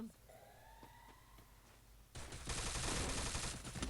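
M500 gunfire in the Free Fire video game, a dense burst of rapid loud shots kicking in midway and running to the end, following quieter game ambience with faint tones.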